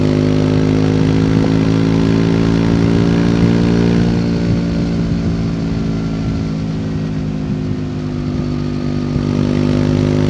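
A 2024 Triumph Speed 400 motorcycle rides along a rough, bumpy road, its steady engine drone loud and close throughout, easing slightly in pitch midway before building again.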